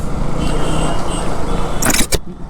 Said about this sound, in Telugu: మనకైతే మధ్యలో మధ్యలో ఇలాగైతే ట్రాఫిక్ అవుతూనే ఉంది